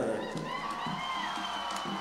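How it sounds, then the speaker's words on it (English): Crowd at the opening ceremony of the 1st North East Olympic Games 2018 cheering and applauding as host team Manipur enters, a steady loud roar with scattered shouts and whistles throughout. "Round of applause, the host team Manipur"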